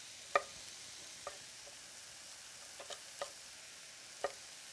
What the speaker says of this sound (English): Mushrooms sauteing.